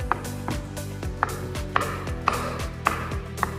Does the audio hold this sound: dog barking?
no